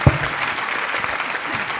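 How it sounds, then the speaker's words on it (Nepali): Applause on a dance competition show stage, a judge clapping along with the crowd in a steady, dense patter that stays at even loudness throughout. "फेरि पनि म ताली बजाउँछु"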